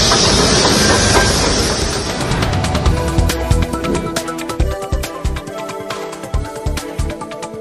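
A mountain railway train carrying tourists rolls past. A loud hissing rush at first gives way to a steady, rhythmic clickety-clack of wheels over rail joints.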